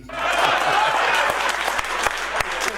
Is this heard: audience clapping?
yes